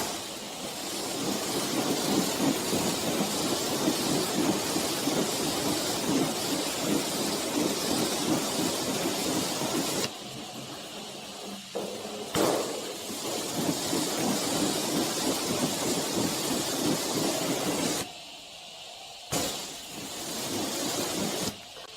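Water spraying to rinse shampoo off a car panel, a loud close rushing hiss that cuts off briefly twice and then resumes.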